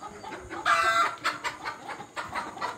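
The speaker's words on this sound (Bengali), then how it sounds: "ফার্মি মুরগি।" Fayoumi chickens on a poultry farm cluck in several short, fairly close bursts, with soft farm noise around them.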